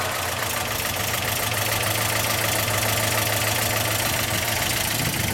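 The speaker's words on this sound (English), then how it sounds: "let's actually hear it start" The 69-horsepower engine of a 1958 English Ford Consul convertible idles steadily at close range, a continuous low rumble with a faint mechanical knock and no voices.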